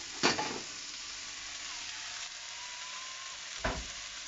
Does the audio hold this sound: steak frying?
yes